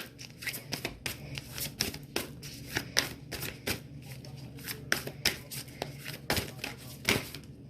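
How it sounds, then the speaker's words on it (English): Oracle cards are shuffled by hand in quick, crisp riffling bursts that repeat in an uneven rhythm, close and alone with no talk. "I'm going to shuffle one more time."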